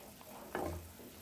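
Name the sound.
prawns frying in kurma gravy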